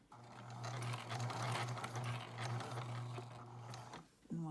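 Sewing machine stitching back and forth to secure elastic on a home-sewn fabric face mask, a steady close mechanical whir running throughout before stopping near the end.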